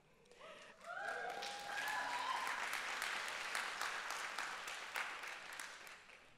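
Audience applause after a keynote lecture at a Toronto arts summit, faint and distant clapping that swells quickly and holds steady, with a few voices rising over it at the start.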